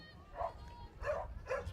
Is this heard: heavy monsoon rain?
no